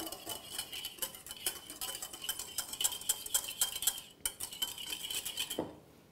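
Black pepper being whisked into a salad dressing, with a rapid, steady clatter of a utensil against a bowl that runs close and fairly loud, then stops abruptly near the end.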